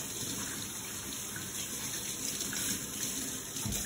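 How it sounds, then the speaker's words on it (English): Cold tap water runs steadily from a faucet into a kitchen sink, a constant gushing stream that stays even and uninterrupted for a few seconds with no talk. "you're going to run cold water from under your sink"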